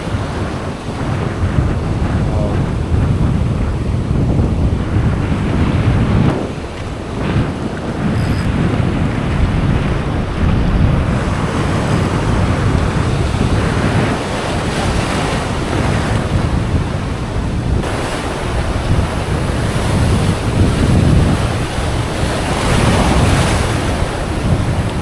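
Ocean waves and strong wind at sea near a rocky island during a fishing trip, a constant loud roar with heavy wind buffeting the microphone and surges of surf throughout.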